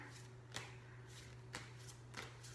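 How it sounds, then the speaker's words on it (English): A deck of tarot cards is shuffled in three quick, soft riffling bursts about a second apart. A low steady hum runs underneath, and no one speaks. "I'm gonna stop with this last shuffle."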